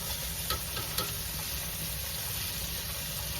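Cubes of beef stew meat searing in a hot pan give off a steady, loud sizzle and crackle throughout, with a couple of brief clicks as pieces are turned.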